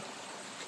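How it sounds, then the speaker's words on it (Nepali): Steady rushing of water flowing in an irrigation channel, a continuous broadband wash with no breaks, moderately faint. "खोलेको कुलोमा पानी एकदम राम्रो आइरहेको छ"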